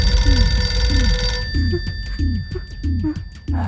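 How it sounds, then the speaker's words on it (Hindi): A telephone bell rings loudly and close in repeated bursts, each ring a warbling trill, the pattern continuing steadily with short gaps and no voices over it. "वो फोन मत उठाना"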